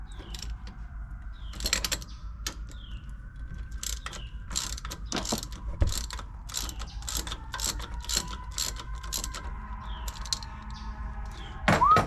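Ratchet with a 16 mm socket loosening a brake caliper bolt on a Chevrolet Suburban during a brake pad change: a run of quick, close metallic clicks in uneven bursts over a faint background hum, with no talking.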